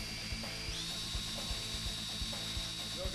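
A drill bit boring into very resistant metal at a slow 300 to 400 RPM, a steady mechanical whine with a faint rhythmic clicking, close and alone without speech.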